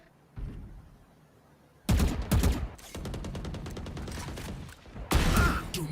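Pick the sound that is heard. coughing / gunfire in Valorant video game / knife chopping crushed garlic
gunfire in Valorant video game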